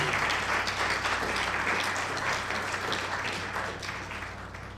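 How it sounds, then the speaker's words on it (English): Audience at an IEEE IoT startup night in New York applauds panelists with sustained, dense clapping that fills the room and tapers off slightly toward the end. "I would like to ask you to give a tremendous round of applause to our panelists"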